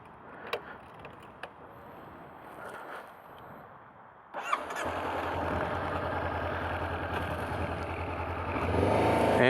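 A motorcycle comes to life after a quiet stretch, its engine suddenly loud and close, then holding a steady roar that builds toward the end as the rider sets off.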